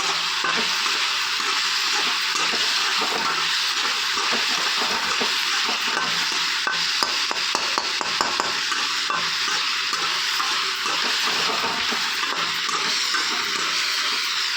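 Peanuts and softened tomatoes sautéing in a pan, a steady broadband sizzle running the whole time with soft scraping stirs and small crackles scattered through, close and fairly loud with no voices.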